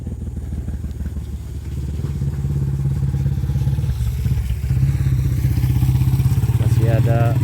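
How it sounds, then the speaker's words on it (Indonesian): Motorcycles pass by on a muddy, rain-soaked toll road under construction, their engines droning loud and close and rising as they near, with a voice speaking over them. "Masih ada para motor ya yang melewat."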